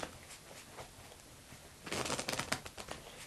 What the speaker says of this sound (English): I'm going to take them and I'm going to give them a few shuffles here.